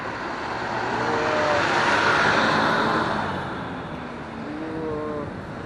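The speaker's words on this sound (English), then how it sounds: "Regular day of Flatbush traffic." Traffic on Flatbush in Brooklyn rushes past a moving car as a broad, steady roar that swells and fades, with faint engine tones underneath and no talk.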